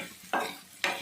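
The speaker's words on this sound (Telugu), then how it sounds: "చక్కగా ఉల్లిపాయలు చక్కగా ఏగిపోయాయి" Onions frying in a pan for a brinjal and prawn curry, heard as a low steady sizzle with two brief bursts of stirring or scraping, close by and without speech.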